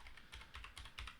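Quick, light keystrokes on a computer keyboard as a command is typed in, a soft, close and uneven patter of taps with no one speaking.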